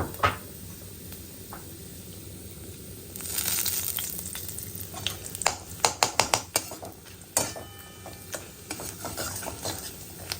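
Cashews fry in oil in a pan with bay leaf and ground cardamom, a steady sizzle swelling louder midway, broken by a run of sharp metallic scrapes and clinks as a spoon stirs against the pan.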